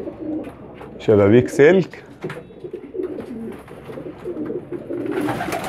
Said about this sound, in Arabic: ما بنطيرش الحمام، يعني هو طاير في المكان